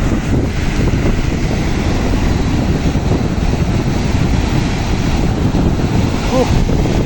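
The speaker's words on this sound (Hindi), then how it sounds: "लहरें देखिए कैसी उठ रही हैं" Ocean waves at Sandspit Beach in Karachi, a loud, continuous roar of surf mixed with heavy wind buffeting the microphone, with no clear breaks between waves.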